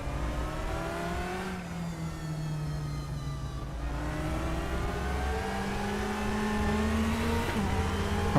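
Ferrari and Porsche race cars at the Interlagos circuit in the RaceRoom racing game, engines rising and falling through repeated gear-change sweeps, a continuous close revving whine with no talk.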